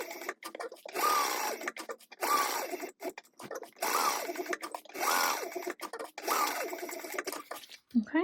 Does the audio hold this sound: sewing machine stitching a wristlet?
yes